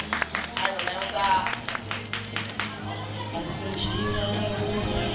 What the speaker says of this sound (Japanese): 警察官の方に拍手をしましょう